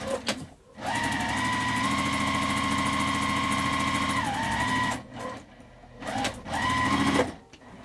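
A close, loud sewing machine runs steadily for several seconds, stitching a bag handle back together, then stops and starts again in short bursts.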